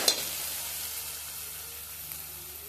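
Green chili paste fries in a pan at home for vada pav filling, a steady soft sizzle with a brief stirring scrape at the start, moderately quiet and close.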